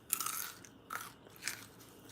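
Crunchy tallow-fried french fries, cooked in a Fry Daddy, are bitten up close. There are three crisp crunches, one near the start, one at about one second and one at about one and a half seconds, then quiet chewing.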